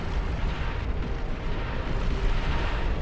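Long-range plasma cannon fire in the Beyond All Reason strategy game, a dense continuous roar of rumbling blasts and impacts that stays loud throughout.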